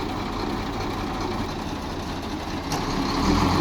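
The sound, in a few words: KAMAZ trucks engines idling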